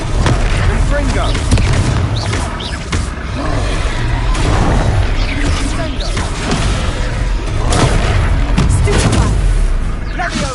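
Confringo fire-blast spells in a Hogwarts Legacy battle, repeated booming impacts and crackling bursts over loud, continuous combat noise, with voices talking throughout.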